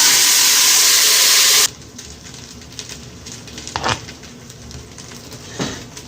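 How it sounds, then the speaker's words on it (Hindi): Chopped onions dropped into hot oil for a turnip bharta burst into a loud, dense sizzle for nearly two seconds, then the pan settles to a quiet background with faint clinks and scrapes. "प्याजों को डाला तो उन्होंने कितना शोर किया, क्योंकि पानी था प्याजों में, तेल गरम था"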